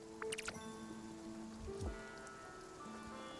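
Soft, steady rain in the video game Spiritfarer patters under layered game music and tonal effects, with a couple of brief louder plinks near the start.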